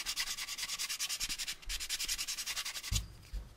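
Fine sandpaper is rubbed over a plastic AMT U.S.S. Enterprise model kit part in quick, rhythmic back-and-forth strokes. The scratchy hiss comes up close, with a brief pause in the middle and a couple of soft bumps. No one speaks.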